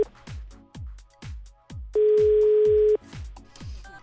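An unanswered phone call on a radio program, with repeated short electronic ringback pulses at a steady rhythm and a longer held tone partway through, loud and close, no voices.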